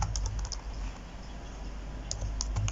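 Someone types on a computer keyboard in quick clusters of light key clicks with brief pauses, entering a WordPress admin login address, close and steady over a low background hum.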